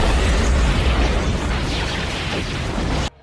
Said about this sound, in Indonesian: Ia menembaki zombie sebanyak mungkin sebelum akhirnya meledakkan tabung gas di sekitarnya.